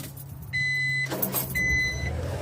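Honda Acty kei truck cold-starting after sitting unused since a long drive, a close cranking and catching engine with steady idle rumble, and a pair of electronic warning chimes beeping over it.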